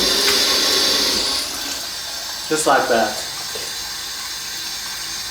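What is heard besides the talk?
rinsing mushrooms under cold running tap water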